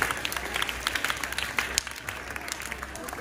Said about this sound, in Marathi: त्याचंही सगळ्यांनी टाळ्या वाजवून अभिनंदन करायचं आहे.